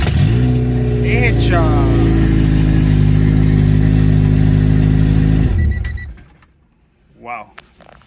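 A restored Honda Civic EG hatchback engine runs for the first time, with a loud, steady, droning idle for over five seconds before it cuts off abruptly. Voices follow, with a brief exclamation in the quiet afterward.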